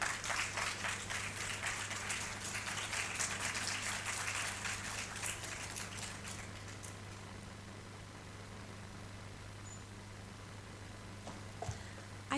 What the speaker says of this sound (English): I thought the claps continues.